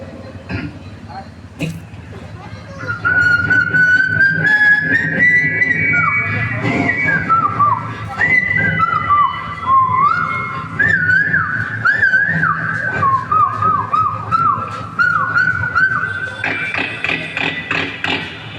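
A person mimics cuckoo calls and chirping morning birds with sliding whistled notes, rising and falling repeatedly, loud and close, with some tapping in the background.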